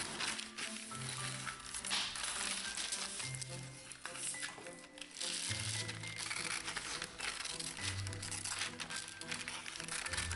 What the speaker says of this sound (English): I'm going to take my scissors and cut around it and cut it out